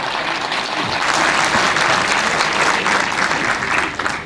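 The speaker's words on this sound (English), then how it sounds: "for you to applaud me" Steady, loud applause from an audience at a law enrollment certificate ceremony at Law Bhawan, Chandigarh, sustained evenly throughout with no break.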